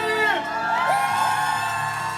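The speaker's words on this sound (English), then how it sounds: "Everybody cheer!" A crowd cheers and whoops at a Charlotte Alzheimer's Association event, a sustained loud swell of shouting and yelling voices that holds steady throughout.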